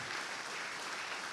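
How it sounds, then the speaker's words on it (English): An audience applauds steadily and densely through a speech event, a continuous wash of many hands clapping at even volume without voices. "you're not clapping for me"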